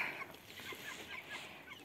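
Hens in a backyard coop cluck softly and steadily, a faint, continuous murmur of calls.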